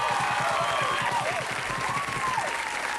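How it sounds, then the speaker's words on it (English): Audience applause and some cheering at an intimate concert on MuchMusic in 1999, dense continuous clapping with a few high whistles or voices rising above it. "Ladies and gentlemen, a round of applause."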